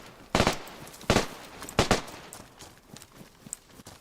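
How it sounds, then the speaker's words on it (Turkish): Gunfire during a firefight in the DayZ survival video game, three loud sharp bursts spaced about a second apart, followed by quieter scattered clicks and shuffling. "Ah, siktir çatışma çıktı"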